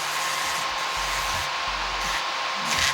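An electric nail drill spinning at 16,000 RPM while filing across a fingernail, a steady high whine with a constant hiss and small shifts in load as the bit moves, heard up close without talk.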